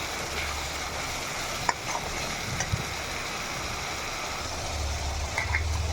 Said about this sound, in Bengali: শুকনো লঙ্কা গুঁড়ো আর লবণ দিয়ে ভালো করে কষিয়ে নেব